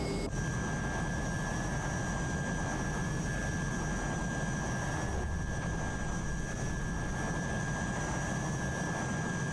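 Hawker Hunter jet engine held at full throttle in Microsoft Flight Simulator, a steady roaring whine with a high constant tone, unchanging throughout and with no voices.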